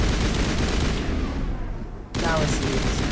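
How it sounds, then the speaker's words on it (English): Mass Effect gunfire rattles in dense, continuous bursts, dips briefly, then resumes sharply, loud and busy throughout with game effects layered in. "Yep, gunfire"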